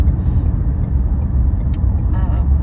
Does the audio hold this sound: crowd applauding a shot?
no